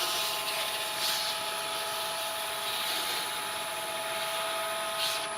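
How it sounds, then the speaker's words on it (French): A turned wooden mushroom spun slowly on a wood lathe while sanded with abrasive cloth, giving a continuous, even hum and rushing hiss with a steady motor whine, close and unbroken, no voices. "On tourne tout doucement pour le poncer, moi je préfère."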